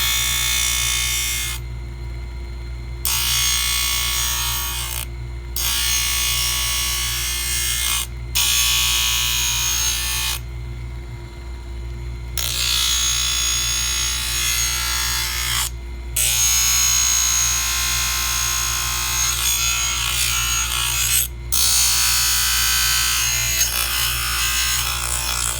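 A rotary cutter trims a denture reline back toward the margins, a loud steady high-pitched whine that runs in repeated bursts of a few seconds each with brief pauses between, over a constant low motor hum.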